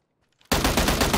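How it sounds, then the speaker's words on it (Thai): Rapid automatic gunfire in the video game PUBG, a loud, dense burst that cuts in abruptly after near silence and keeps rattling continuously to the end. "ได้ยินเสียงปืนกูไหม"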